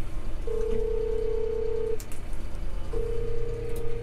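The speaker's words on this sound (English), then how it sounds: "I had to take a phone call from my grandpa." A telephone rings with two steady electronic tones, each about a second and a half long with a pause between them, heard indoors over a low background hum.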